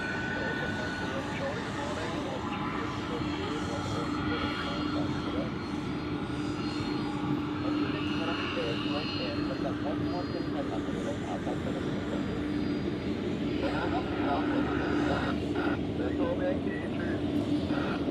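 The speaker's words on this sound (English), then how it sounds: "A United 767-300ER is going to the southern side, arriving from Newark" A United Airlines Boeing 767-300ER arriving from Newark at Zurich airport rumbles steadily in the distance, a continuous broad engine roar lasting throughout.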